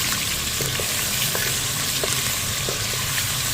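Garlic ginger paste and curry leaves fry in hot oil while being stirred, a dense, loud, continuous sizzle broken by a few faint scrapes of the spoon, with no voices.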